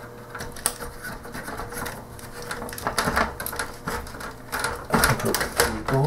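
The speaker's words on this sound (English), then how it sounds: "Thing I need to do is take the top cover off." Plastic clicks, taps and rattles as the top cover of a Commodore 64 breadbin case is worked loose, a close, uneven run of sharp knocks and scrapes with no talking.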